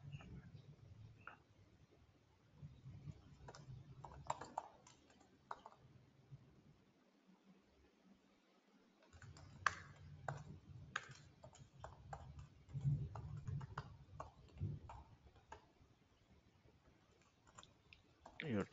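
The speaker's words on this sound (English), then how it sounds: "You're typing so lengthy password." Rapid, irregular clicks of a computer keyboard as a password is typed, close and fairly faint, with brief gaps and a low background hum, no talk over it.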